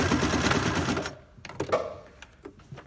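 A sewing machine stitches a backtack at the end of a seam on a fabric gift bag, running in a steady close whir that stops abruptly, followed by a few light mechanical clicks and taps.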